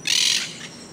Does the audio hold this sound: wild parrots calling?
yes